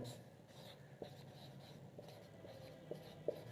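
A pen writes by hand during a math lesson in a quiet room, with faint scratching strokes and several small taps, heard alone at low volume.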